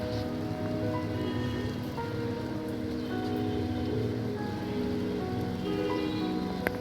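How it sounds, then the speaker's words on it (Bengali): Rain falls steadily on mango trees outdoors, a continuous, even patter and wash of drops with no voices, holding at a constant moderate level throughout. "বৃষ্টি কিন্তু এখনও হচ্ছে এই দেখেন বৃষ্টির অবস্থা"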